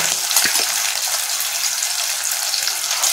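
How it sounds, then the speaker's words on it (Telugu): Tomatoes and ginger-garlic paste fry in a pan with a loud, continuous hissing sizzle that stays even throughout, with a few stirring scrapes near the start. "ఇది బాగా వేపించుకోవాలి."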